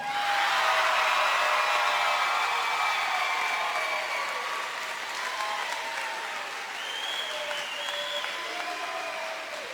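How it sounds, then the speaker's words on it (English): A state volleyball championship crowd gives loud, steady applause for senior player Megan Bond, continuous clapping with some whistling threaded through it, easing a little after the first few seconds. "One more round of applause."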